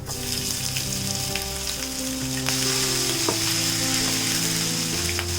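Crushed ginger and garlic with coconut pieces fry in hot oil for Kerala-style beef ularthiyathu, a loud, dense, continuous sizzle and crackle with occasional sharp pops.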